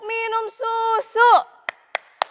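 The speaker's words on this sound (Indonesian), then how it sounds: "Kita tepuk minum susu dulu, oke?" Children's voices chant the "tepuk minum susu" routine at a Sunday school service, broken by three sharp, evenly spaced claps at the end.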